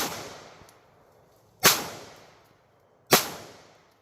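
A Smith & Wesson CSX e-series pistol fires Norma MHP rounds: two sharp, loud reports about a second and a half apart, each with a decaying echo tail, and a fading tail from an earlier shot at the start.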